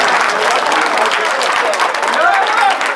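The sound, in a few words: wedding guests applauding the bride and groom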